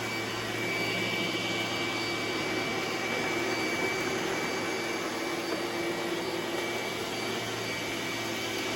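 An iRobot Roomba S9+ robot vacuum runs with a steady, loud whirring hum and a high whine, unbroken throughout and close by.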